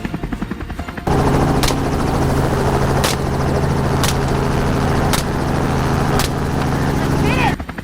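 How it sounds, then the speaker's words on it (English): A helicopter flies close overhead during a wild boar hunt, its loud steady rotor thrum and whine filling the scene, with several sharp cracks like rifle shots punctuating it at regular intervals. "The pilot steered the helicopter closer, giving me a clear shot at the targets."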